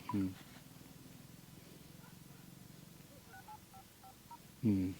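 A series of soft electronic beeps as a phone number is keyed in, each tone short and evenly spaced, with brief louder tones at start and end.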